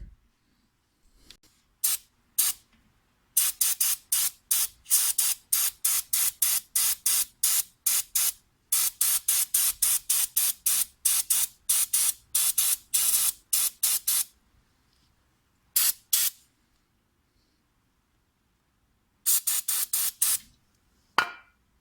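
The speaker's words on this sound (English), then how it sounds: "So you could spray around the bottom and even move the rotor just like that to get the area that you need down here" An aerosol can sprays around a BMW front brake rotor in many short, rapid hissing bursts, close and loud, with pauses between runs of bursts and no talking.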